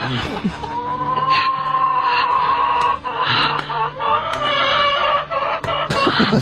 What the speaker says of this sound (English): The chicken is so unhappy about this arrangement.